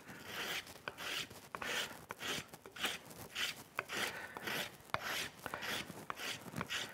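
A tool shapes the swelling of a wooden Windsor chair spindle by hand in quick, rhythmic rasping strokes, about two per second, close but fairly quiet with short pauses between bursts.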